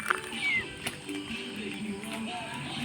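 A cat meows on a small farm: a couple of clear, rising meows near the start, then a quieter meow later, over soft background noise with some faint voice nearby.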